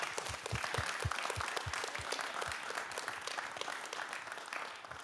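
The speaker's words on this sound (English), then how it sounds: "let's pause and just give her a huge round of applause" Audience applause after a talk, with steady, fairly distant clapping from a crowd filling the room, sustained throughout and no voices.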